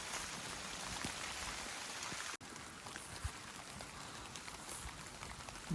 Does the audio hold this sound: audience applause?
no